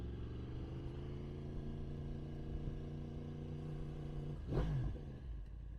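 A 2022 Yamaha R1M motorcycle fitted with an Akrapovic exhaust and a pops-and-bangs tune rides with a steady, close engine drone, then gives a short rising rev near the end.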